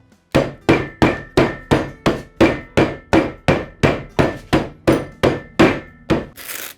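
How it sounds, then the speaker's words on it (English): A hammer pounds ice inside a canvas Lewis bag, about sixteen evenly spaced heavy thuds, each with a crunching tail, close and loud with no talk. "whenever you have a Lewis bag, you're gonna need a hammer"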